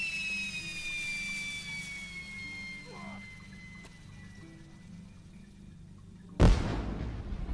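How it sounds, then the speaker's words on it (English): Dragon fireworks go off in the LOTRO video game: a high descending whistle and faint crackles, then a sudden loud whooshing burst near the end. "Shall we go ahead and set that off and see the dragon fireworks?"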